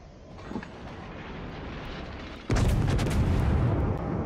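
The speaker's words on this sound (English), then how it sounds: "Shots out again." Naval gunfire in the World of Warships video game, a sudden loud booming broadside that erupts partway through and then rumbles on, following a quieter stretch of distant engine and sea ambience.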